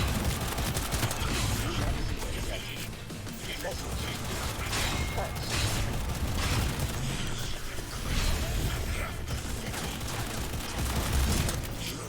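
Gunfire in Cyberpunk 2077, dense repeated shots and bursts mixed with mechanical clatter and occasional booms, continuing throughout at moderate volume while a person talks over them.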